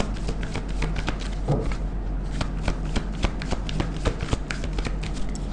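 Tarot cards being shuffled by hand, a rapid, steady run of close, crisp riffling flutters that continues throughout without pause.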